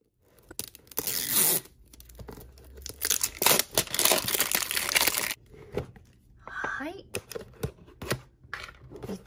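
Plastic and foil packaging of a LOL Surprise Furniture Series 3 toy is torn open up close, with bursts of ripping and crinkling separated by short pauses.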